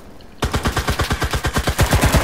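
Rapid automatic gunfire from a shooter video game, following a brief quiet moment: a steady, loud stream of evenly spaced shots that keeps going to the end with no break.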